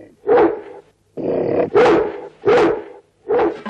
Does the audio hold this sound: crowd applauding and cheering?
no